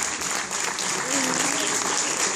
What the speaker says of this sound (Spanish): Fuerte el aplauso, fuerte ese aplauso para Starkiller.